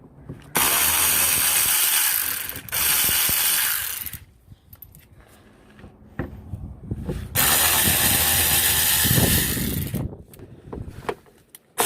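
A ratchet removes T30 Torx screws from the skid plate of a 2018 Ford Focus, heard as two long loud bursts of rapid clicking separated by quieter handling and clanking noises, close up and without speech.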